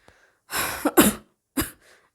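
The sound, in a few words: cough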